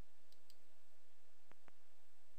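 Two quick, crisp computer mouse clicks close together on a button, sounding alone against faint background hum, with a couple of fainter ticks just before.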